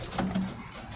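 A Morris Gordon pigeon, an imported stock bird, gives a brief, soft, low coo, with light rustling nearby.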